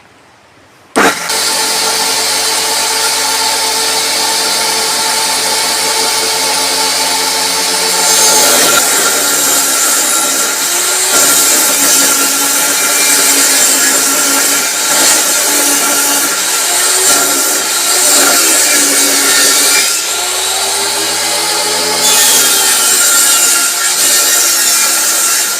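A cutter machine fixed directly onto a steady work table runs loud and continuous, its steady hum joined by rising cutting and rubbing passes that swell and ease several times, with no talk.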